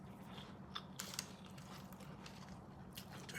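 KFC fries being eaten in Bangkok, with a few soft crunchy bites and chewing close up against a steady low room hum.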